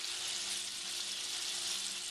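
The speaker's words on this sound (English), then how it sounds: "You can hear that kind of sizzling." Bacon grease sizzles in a pan with a constant bright hiss, close by and unbroken.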